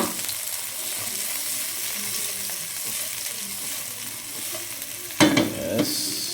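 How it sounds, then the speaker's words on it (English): Onion and chili sautéing in a pan for hot, spicy Chinese-style noodles, a steady close sizzle with soft stirring, then a louder burst of scraping and crackle near the end. "put onion and chili inside pan"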